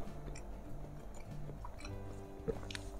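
Crunchy gabin tape snack made with a cheese dough being chewed close up, with steady soft crunching and mouth sounds and one sharper bite near the end, no talking.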